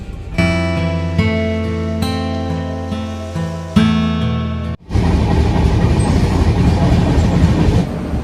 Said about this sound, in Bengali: প্রবল বৃষ্টির মধ্য দিয়ে আমাদের ট্রেন কিন্তু এগিয়ে চলেছে শিয়ালদা থেকে জম্মু তাওয়াইয়ের উদ্দেশ্যে